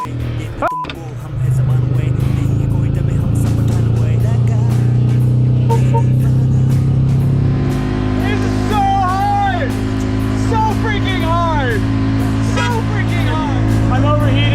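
Auto rickshaw engine labouring up a steep incline at high altitude on the road to Babusar Top, a steady loud drone with strained revving throughout, alongside a burning clutch.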